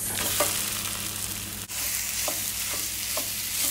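Lamb mince frying in a pan with garlic, tomato puree and cinnamon for moussaka, a steady close sizzle with occasional soft stirring scrapes, no voices.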